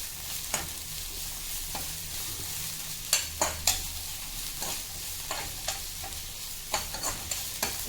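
Vallarai greens are dry-roasted in a pan, a soft steady sizzle broken by repeated sharp scrapes and clicks of a spatula stirring, uneven in rhythm and close by.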